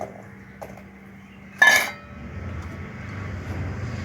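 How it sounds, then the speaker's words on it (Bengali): Brinjal pieces drop into an iron wok, about to be steamed with a little water, salt and turmeric, making one short, sharp clatter with a brief hiss before a low, quiet kitchen background returns. "তো কড়াইয়ের মধ্যে আমি বেগুনটা দিয়ে দিলাম"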